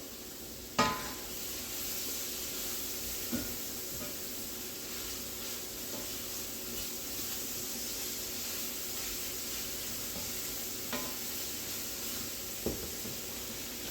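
Ground beef for a steakhouse-style sloppy joe sizzles and browns in a pan, a steady close-up hiss with occasional sharp clicks and scrapes.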